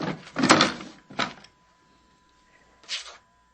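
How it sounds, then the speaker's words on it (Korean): A wooden desk drawer is pulled open in a few separate bursts, quick scraping movements with quiet pauses between them. "다리는 서랍을 열고"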